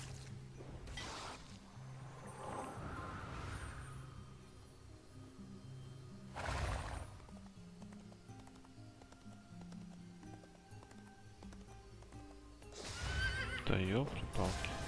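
Horse neighing and whinnying with clip-clopping hooves in the fantasy online game Drakensang Online, several loud whinnies separated by pauses over continuous game music and effects, with someone talking throughout.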